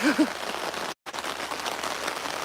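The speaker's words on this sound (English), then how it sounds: "it's coming up because of how much it's raining" Heavy rain drums steadily outdoors during a fishing outing, a dense patter that cuts out for a split second midway, with brief soft tones near the start and no speech.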